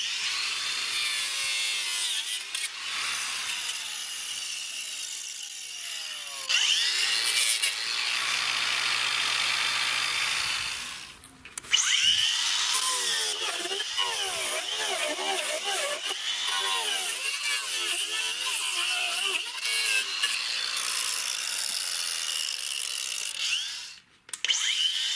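A homemade circular saw blade, built from old diamond cutting discs with a chain clamped tightly between them, cuts steadily through a workpiece with a continuous rasping, grinding whine. The sound runs close and loud almost without pause, breaking off briefly twice.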